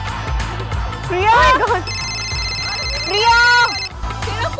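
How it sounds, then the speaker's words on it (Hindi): A phone ringtone plays in repeated melodic bursts under steady background music and voices, fairly loud and close. "तेरा फोन बज रहा है।"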